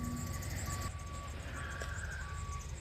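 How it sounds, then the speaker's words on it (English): Repeated electronic reversing beeps from a Ford E250 van in reverse gear sound at a steady pace in the background over a low engine rumble. "the reverse is going off, going beep, beep, beep in the background"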